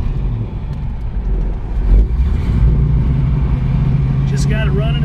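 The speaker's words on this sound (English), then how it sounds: "Test driving a 1973 Chevrolet Camaro Z28" A 1973 Chevrolet Camaro Z28 engine running on a test drive while not yet fully warmed up, a deep steady rumble that swells slightly, heard from inside the car with a voice talking over it.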